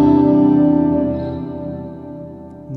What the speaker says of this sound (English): It starts to kind of pull away from that swell and starts to do this weird kind of like just so much reverb, and it becomes almost too echoey